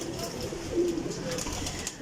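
A loft of about seventy pigeons coos steadily, the soft throaty calls overlapping close by against a busy outdoor background.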